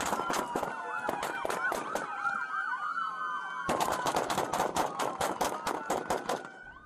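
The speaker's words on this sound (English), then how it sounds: "Dash cam video picks up a police chase ending in a forced crash and a flurry of gunfire in the middle of I-40" Dash cam audio from a police chase on I-40 in downtown Knoxville: a wailing police siren runs throughout, interrupted by rapid bursts of close, sharp gunfire that resume in a dense volley in the second half.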